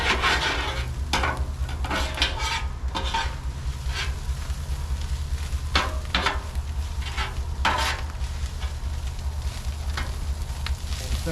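Sauerkraut, onions and jalapenos with smoked paprika sizzle on a grill, a constant frying hiss under intermittent scraping and stirring strokes with light metallic clinks.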